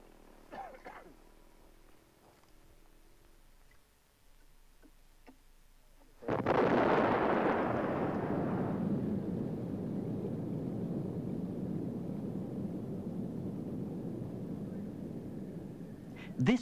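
A blast of 1 kilogram of dynamite set off on top of a quick clay terrace at a landslide site, heard as a sudden loud boom that settles into a long, sustained rumble of collapsing and flowing clay.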